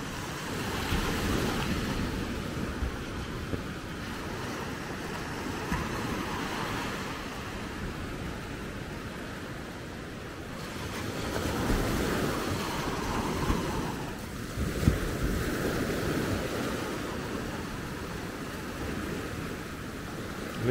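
Incoming tide waves wash ashore at Maspalomas on Gran Canaria, a steady low surf roar with gentle swells rising and falling, mixed with wind rumble and no voices.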